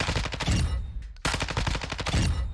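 Gunfire from a weapon in the Warzone 2 firing range in a video game, with rapid bursts of automatic shots, a brief pause, then another fast burst, loud and close with no talking.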